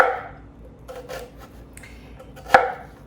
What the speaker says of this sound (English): I'm just making some thin slices in here.